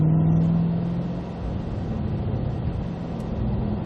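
A car on a race track pulls out of a corner under acceleration, its engine a loud, close, continuous rumbling drone that steadies and builds slightly over a few seconds, with no voices.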